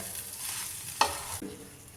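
Khawa poli flatbread roasts on a hot pan, a soft steady sizzle with a sharp tap and a brief scrape as it is turned.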